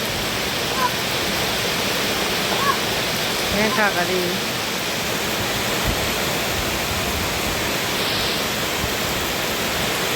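Steady rushing water flows continuously, like heavy runoff or rain pouring, with a voice briefly speaking over it.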